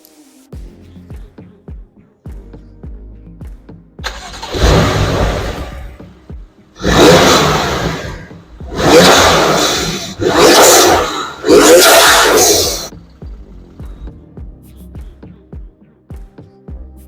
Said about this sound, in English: they're the loudest intakes on the market